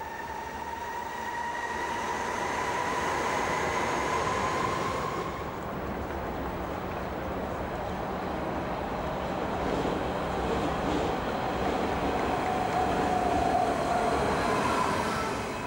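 An East German type G1 tram from the 1980s rolls past in Berlin with a steady rumble and metallic wheel squeal, loud and close, fading slightly as it moves on.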